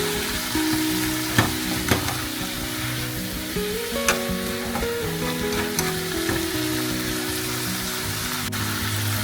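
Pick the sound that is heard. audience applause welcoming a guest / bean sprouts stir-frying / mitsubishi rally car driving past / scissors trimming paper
bean sprouts stir-frying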